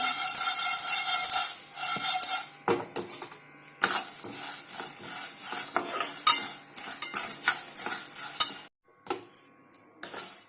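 Masala ingredients for vangi bath are stirred and fried in a pan over a low flame, with a spoon scraping and clinking against the metal in an irregular rhythm over a soft, steady sizzle and no talk.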